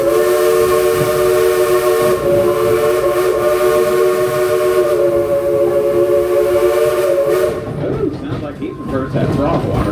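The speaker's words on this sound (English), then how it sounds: "Hey, Ichabod, give us a couple toots on that whistle" A steam train whistle blows loud and close in a long, sustained, harmonically rich blast that cuts off near the end, leaving rumbling train noise with voices in the background.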